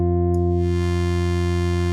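An Arturia Farfisa-V virtual organ is held on a sustained chord with all boost switched on, producing a bright, buzzy, steady tone that rings loud and unbroken.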